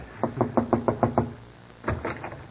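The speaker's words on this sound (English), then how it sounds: "Shall I knock, Doctor? Go ahead." Knocking on a door in a comedy radio drama: a crisp series of about six evenly spaced raps, a short pause, then a second, slightly fainter burst of knocks, with no voices over them.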